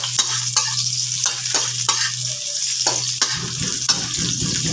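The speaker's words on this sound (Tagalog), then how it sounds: "Ayan, igisa natin yan." Garlic, onion and tomato sauté in a hot pan, giving a steady, continuous sizzle and hiss with faint stirring scrapes and a low background hum, no voices.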